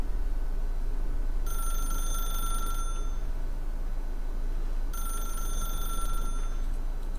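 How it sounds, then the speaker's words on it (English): A telephone bell rings in two long bursts with a pause between them, close and loud, over a steady low hum in the video game The Stanley Parable. "then pick up the phone."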